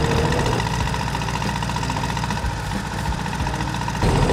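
Engine of an air-cooled Volkswagen Beetle running steadily as the accelerator is pushed, a loud, continuous mechanical drone with a rough, knocking texture that swells slightly near the end.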